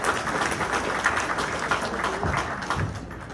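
A round of applause during a morning county business briefing: a dense, even patter of many hands clapping at moderate volume for a few seconds, with some low room rumble beneath.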